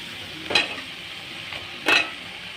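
Cauliflower stirred and frying in a tomato gravy in a pan, a steady sizzle broken by two distinct spoon scrapes.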